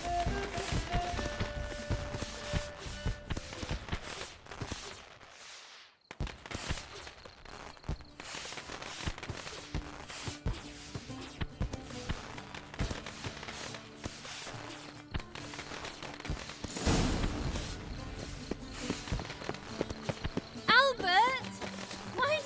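Horse hooves clip-clopping at a steady walking pace in The Witcher 3, heard close with game music and ambient sounds beneath, and voices talking throughout.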